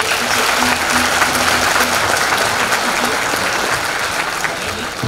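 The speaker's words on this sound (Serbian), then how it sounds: "veliki aplauz." A big crowd at a charity concert in Batočina breaks into sustained applause, a thick, steady wash of clapping that holds at full strength from start to finish.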